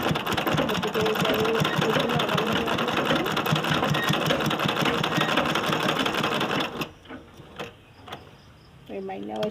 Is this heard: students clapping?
no